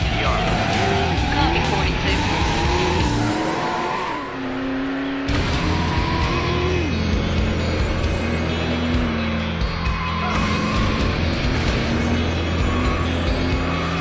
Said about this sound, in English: Holy shit, this is a fast car.